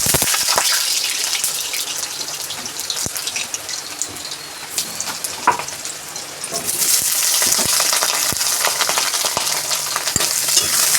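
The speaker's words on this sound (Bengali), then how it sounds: "এবার আলুগুলো ভেজে নেব।" Potato pieces frying in hot oil in a home Bengali kitchen, a steady broadband sizzle throughout with occasional stirring clicks, growing louder and denser in the second half, with no talking.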